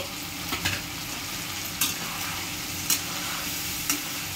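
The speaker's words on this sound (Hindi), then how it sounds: "देखंतु वर्तमान आमे भल भाबरे मसला को फ्राई करनबा।" Spice masala of coriander, cumin, garam masala, turmeric and chilli powder frying in oil for a Cuttack aloo dum gravy, a steady close sizzle with a few brief clinks of a stirring spoon against the pan.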